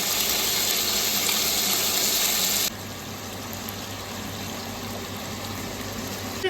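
Water poured into a cooking pot of chicken makes a loud, steady gushing rush. It drops to a softer, continuous flow partway through, with no talking.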